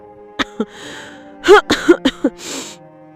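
A young cartoon bird in an animated jungle story gives a few light, short coughs, voiced by an actor imitating the sound, close and clear with small breathy gaps between them.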